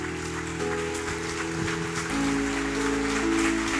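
A church congregation claps hard together in a steady, dense wash of applause, with sustained instrumental tones ringing underneath throughout.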